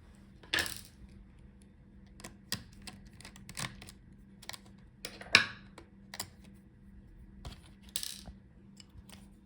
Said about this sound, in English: So unscrew these 2 screws.